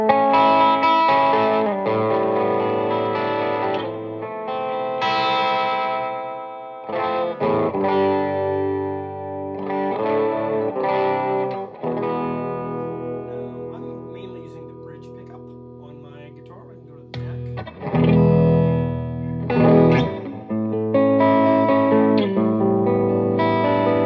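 Electric guitar through a Keeley Omni reverb pedal and Soldano Atomic 16 amp, playing chords and single notes with a wide, lingering reverb tail, the notes ringing out and blending between phrases.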